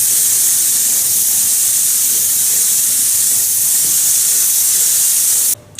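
Spray gun laying paint onto a car bonnet, a loud continuous airy hiss held steady and close for several seconds before stopping abruptly.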